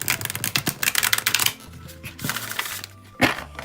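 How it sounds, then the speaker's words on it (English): A deck of stiff fairy tarot cards is shuffled by hand, giving a rapid papery flutter of riffling and slapping, then a pause and a final sharp snap of cards, close and alone. "On to shuffling."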